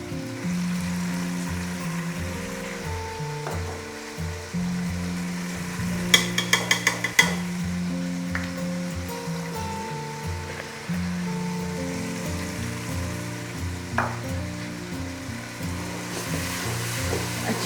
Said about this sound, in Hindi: अच्छी तरीके से मिक्स कर लें।